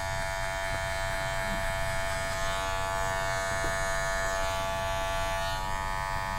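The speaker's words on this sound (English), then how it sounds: "actually listening to the fact that the clipper's making a noise" Electric hair clippers cut hair during a haircut and beard trim, giving a steady, close, harmonic-rich buzz that runs unbroken throughout.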